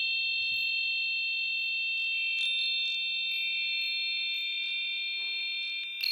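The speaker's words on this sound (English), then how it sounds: "The sound of wind chimes swing in the air." A wind chimes sound effect gives steady, shimmering metallic tones with light tinkling strikes, faint and continuous for several seconds with no talking.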